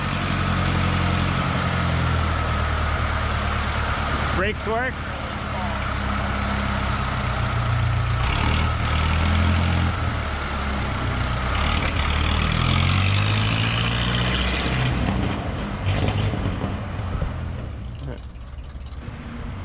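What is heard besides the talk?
engine of a driving 1923 REO Speedwagon truck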